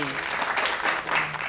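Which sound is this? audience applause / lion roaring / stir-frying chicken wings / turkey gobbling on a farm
audience applause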